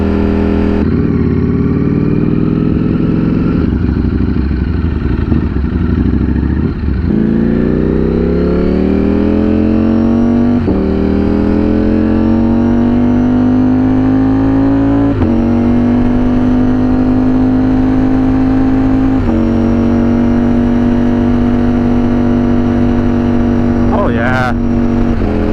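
A Ducati Streetfighter V4 motorcycle being ridden, its engine droning loud and steady with a rising pitch as it pulls through the gears, a brief shift break, and constant wind roar throughout.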